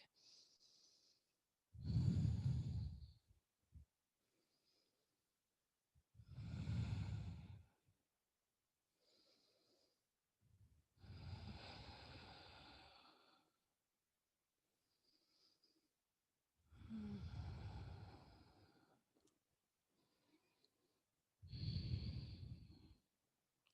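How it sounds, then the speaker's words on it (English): Slow, deep breaths during a seated yoga stretch in an upper-back pose: about five long, even inhale-exhale bursts spaced several seconds apart, close and fairly soft, with quiet pauses between them. "Breathe into your upper back."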